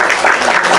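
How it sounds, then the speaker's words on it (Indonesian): Audience applause fills the moment, a dense, steady patter of clapping that holds at an even, fairly loud level for under a second. "Tepuk tangan buat Tuhannya."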